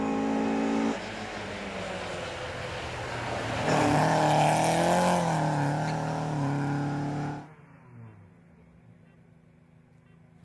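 A Toyota Corolla Sport race car on the Falperra hill climb roars loud and close for about seven seconds, its engine note rising and holding. It then cuts off abruptly into a quieter, faint tail as it moves away.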